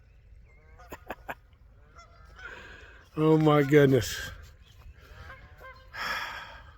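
Geese swimming across a pond give several loud nasal honks in a short burst, while a woman nearby gasps and speaks softly outdoors.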